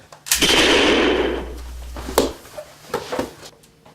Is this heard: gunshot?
yes